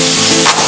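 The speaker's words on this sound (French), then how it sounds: "on va faire revenir dans de l'huile chaude séparément le bacon et les oignons" Bacon and onions frying in hot oil, a loud, steady sizzle that fills the short moment with no break and no voices.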